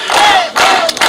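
A crowd at a gathering welcoming a guest bursts into loud, close cheering and clapping. Short rhythmic shouted bursts come in quick succession.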